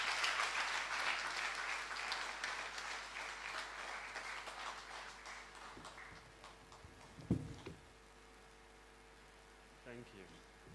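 A hall audience at a graduation congregation ceremony gives a dense round of applause to welcome a professor to the podium; the clapping is steady for several seconds, then fades to a quieter room with a few scattered sounds.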